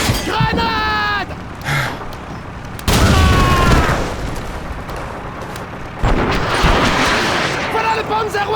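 Call of Duty 2 battle sounds, with a loud grenade blast and heavy booms of gunfire arriving in sudden bursts over a rumbling background, alongside voices calling out in game.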